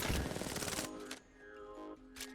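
A short burst of rapid weapon fire in a shooter game with aim assist crackles loudly for under a second, followed by quieter tonal game sounds and a brief later blip.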